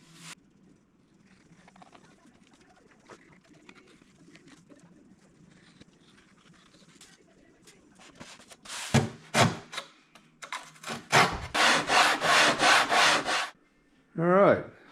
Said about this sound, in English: I've got the belly pan sanded down.